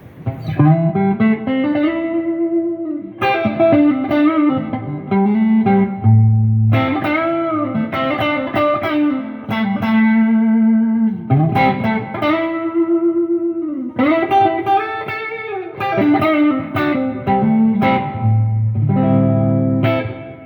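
An electric guitar on a Warmoth Thinline Stratocaster build, with mild overdrive, plays bending melodic phrases and chords, with a touch of chorus and reverb and no talking.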